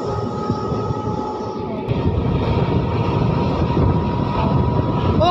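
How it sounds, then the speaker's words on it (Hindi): Onboard a DMU diesel multiple unit train departing Firozpur Cantt toward Ludhiana, a loud steady engine drone and rumble building after a couple of seconds as the train accelerates, close and continuous. "DMU ट्रेन के दोस्तों एक्सेलरेशन देखिए"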